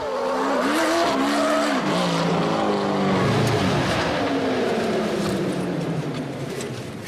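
A dune-racing sand car, a Prim 300, driven hard on pavement, its loud engine climbing and falling in pitch through gear changes as tires squeal, close and dominant throughout.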